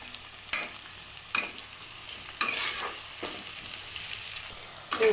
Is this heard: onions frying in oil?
yes